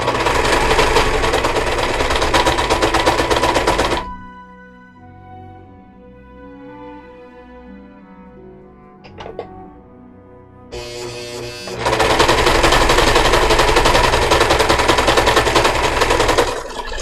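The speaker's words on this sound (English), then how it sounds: "You are next to the sewing machine." Sewing machine running loud and close in two long stretches of dense, rapid mechanical chatter, with a quieter gap in between that holds softer clicks and tones.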